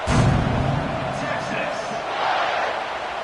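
A stadium crowd at a football game roars in a broad, steady wash of cheering that swells briefly near the start and again later, with a commentator-like voice partly blended in.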